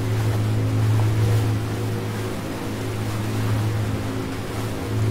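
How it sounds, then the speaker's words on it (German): Rescue boat engine droning steadily at normal cruising speed in the Ship Simulator game, with a constant low hum and a wash of waves and water noise throughout, no voices. "Jetzt fahren wir auf Normalgeschwindigkeit."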